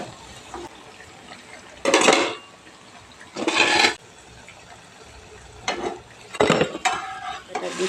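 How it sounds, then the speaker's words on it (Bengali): Spicy jhal pitha batter fries in a frying pan, one ladleful at a time, with a quiet sizzle underneath and several loud bursts of scraping and stirring against the pan. "আমি এখানে ফ্রাই প্যানের মধ্যে দিয়ে ভাজছি"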